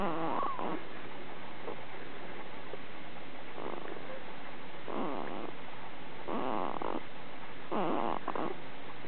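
A one-month-old baby snores while sleeping, close up, with soft breathy snores that come in irregular bursts and lengthen toward the end, no talking.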